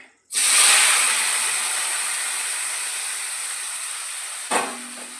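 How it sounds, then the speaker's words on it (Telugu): Tomato pieces for pickle drop into hot oil with a sudden loud sizzling hiss that holds steady, then eases slowly. A brief stir or clink comes near the end, and no one speaks. "నూనె మరిగింది ఇప్పుడు ముక్కలు వేసేసుకుందాం"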